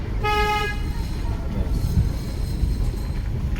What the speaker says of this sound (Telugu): హారన్ అప్లై చేయండి